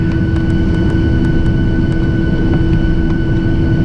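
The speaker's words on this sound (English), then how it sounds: "I see Lufthansa Airbus A340 taxiing." Jet engines drone steadily and loudly, with a constant low rumble and faint whine, as an airliner taxis at Incheon airport, heard without any speech.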